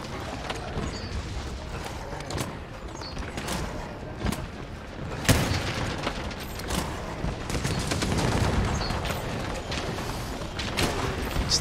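Gunfire in Monster Hunter World: repeated sharp shots and booms punctuate a dense, busy game soundscape of clanks and mechanisms, with a few louder blasts standing out over steady background action.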